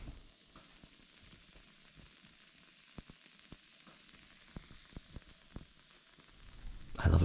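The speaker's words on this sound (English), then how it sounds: "I love a good sizzle." Baked cheesy Mediterranean eggs sizzling, a steady soft crackle with scattered sharp pops, close and quiet, swelling into a louder rush at the very end.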